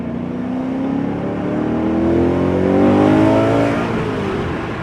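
A BMW M3 with a six-speed manual pulls hard under acceleration, its engine note climbing steadily in pitch through a gear, loud and close from inside the car.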